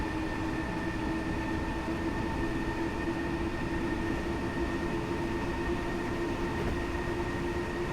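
A steady, droning electric train rumble from Train Simulator 2020, a DB BR426 unit, with a constant mechanical hum and whine, running evenly throughout without talk.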